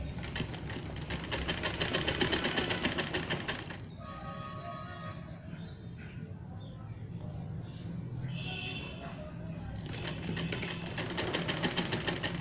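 A sewing machine stitching the hem of a trouser leg runs in fast, steady rapid bursts, pauses for a few seconds of quieter fabric handling, then starts stitching again, close and clear.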